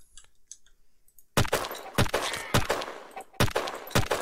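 Gunfire in the online egg-shooter video game Shell Shockers: a quiet stretch of faint clicks, then four sharp, loud shots at a fairly even pace, each followed by a short tail.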